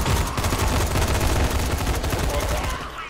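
A makeshift, man-made gun in the zombie game Dying Light fires as dense, rapid automatic bursts. The shots are loud and close, keep going without a break, and fade out at the end, with game noise mixed in.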